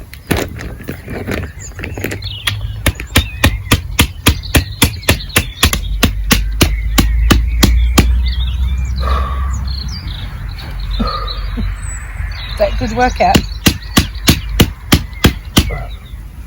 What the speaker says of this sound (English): it'd be better if it wasn't such a titchy hammer